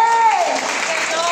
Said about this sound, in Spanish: Dale un aplauso a